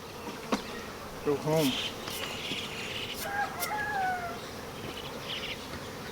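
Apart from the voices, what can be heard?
honey bees buzzing around hive frame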